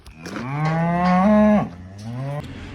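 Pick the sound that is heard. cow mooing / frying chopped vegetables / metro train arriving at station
cow mooing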